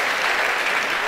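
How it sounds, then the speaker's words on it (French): A crowd applauding without a break, with dense, steady clapping that holds at a fairly loud level for the whole moment and never stops. "Acclamez, acclamez."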